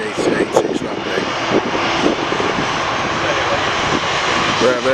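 Aer Lingus Airbus A330 jet engines rumble in a steady broadband roar while the plane taxis at an airport, fairly close and constant, with a voice talking over the engine noise.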